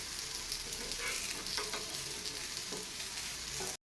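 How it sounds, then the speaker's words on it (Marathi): Coriander and peanut vadis shallow-fry in a little oil over a low flame, giving a steady close sizzle throughout before cutting off abruptly at the very end. "थोड्याशा तेलावर आणि मंद गॅसवर आपण या वड्या मस्त अशा भाजून घेतल्यात"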